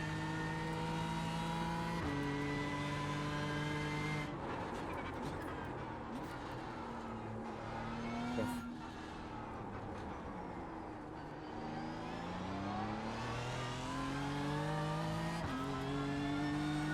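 BMW M4 GT3 race car engine in the iRacing sim, droning steadily at close range and rising and falling in pitch through gear changes as it brakes and accelerates, with no talk.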